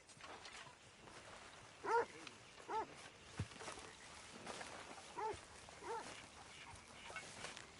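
A dog in Red Dead Redemption 2 gives a few faint, scattered barks at a distance over quiet outdoor ambience, with irregular gaps between them.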